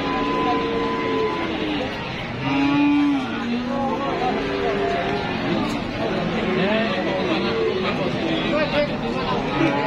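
Cattle lowing repeatedly at a busy Indonesian livestock market selling Limousin cattle, the moos rising over a constant babble of crowd chatter and nearby voices.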